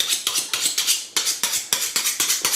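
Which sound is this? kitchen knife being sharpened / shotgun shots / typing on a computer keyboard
kitchen knife being sharpened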